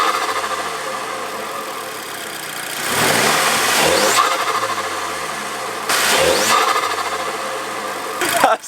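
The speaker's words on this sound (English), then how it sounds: "see if you can hear this induction noise right now" An Audi TT Mk2 8J fitted with a RamAir induction kit revs sharply twice, each rise bringing a loud induction roar over a steady idle before it drops back, with a final short blip at the end.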